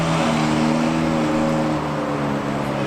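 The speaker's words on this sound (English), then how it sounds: "Rev it, Lee!" A car engine runs steadily with a low, even drone and a faint rising tone, close and sustained; the car is being collected from an impound lot during a long road trip.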